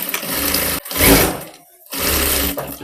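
A sewing machine runs double stitching along the belt of a half-collar blouse, two close, steady motor bursts broken by short pauses.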